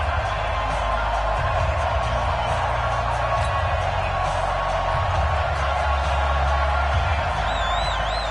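Dense stadium crowd roar from an EA Sports NFL video game, a sold-out home crowd cheering as the Redskins take the field against the Detroit Lions, loud and continuous throughout.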